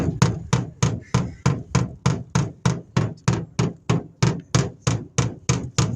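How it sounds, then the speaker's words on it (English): A steady, rapid series of about sixteen dull hammering blows of a wooden bat on a car's rear quarter panel, evenly spaced and close. "I'm going to use this bat like a body hammer."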